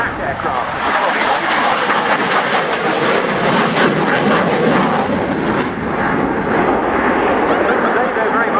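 A MiG-29 jet fighter flies at the RIAT 2013 airshow, heard as a loud, continuous roaring rush of jet noise that stays steady and close while a voice narrates over it.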